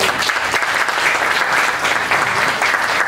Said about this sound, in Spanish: pida un fuerte aplauso de bienvenida